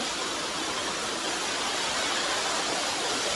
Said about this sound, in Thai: เสียงน้ำตกเสียงดังมาก